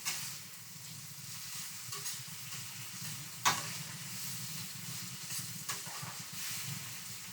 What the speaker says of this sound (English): of cooking fried fish